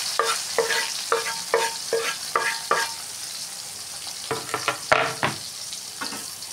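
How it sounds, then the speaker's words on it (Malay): Shallots, garlic and ginger frying in leftover oil, with a steady sizzle broken by repeated scraping strokes of a spatula stirring in the pan, close and loud with no talk. "Tumis bawang merah, bawang putih dan halia ya."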